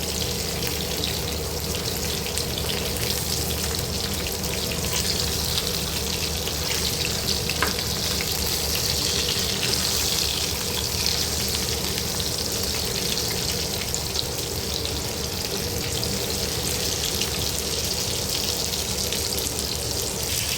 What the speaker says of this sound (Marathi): साईड भाजून झाली की पलटी करायची आपल्याला आणि दुसऱ्या बाजूने व्यवस्थित आपल्याला भाजून घ्यायचा आहे मासा